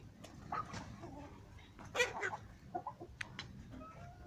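Backyard chickens, including a rooster, cluck and call in short scattered bursts during morning feeding, with a few louder close calls amid quieter background fowl sounds and no talk.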